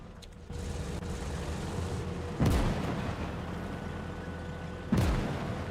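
Heavy shots strike a tank in a Call to Arms Gates of Hell multiplayer battle on the Eastern front: two loud booming impacts about two and a half seconds apart over a low rumbling engine drone.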